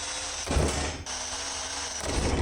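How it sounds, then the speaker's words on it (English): A power drill whirs steadily for a couple of seconds, drilling through clamped metal with a grinding bite that briefly dips and surges again, close up. "So we'll get this clamped down and drilled through."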